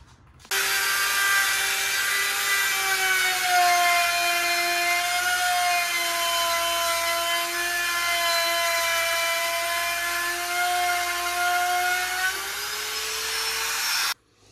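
A high-pitched power tool trims wood during a kitchen water damage repair, one continuous loud whine lasting about fourteen seconds, close and steady with a slight dip in pitch midway.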